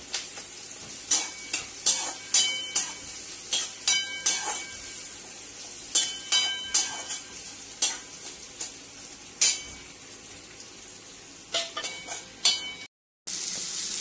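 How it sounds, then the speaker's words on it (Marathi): Green chili and garlic-cumin paste frying in hot oil in a kadai, a steady loud sizzle broken by repeated rhythmic clinks and scrapes of a spatula stirring against the pan, with one brief dropout near the end. "आता आपण याच्यामध्ये हिरवी मिरची टाकूया आणि हा लसूण आणि जिऱ्याचा पेस्ट"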